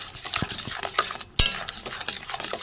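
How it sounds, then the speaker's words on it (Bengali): Powdered milk stirred into a flour and sugar mixture for a rose-shaped sweet, close scraping strokes of a utensil against the pan with a sharp knock midway after a short pause, no voices. "গুঁড়ো দুধটা একবার এর সাথে মিলিয়ে দেবো"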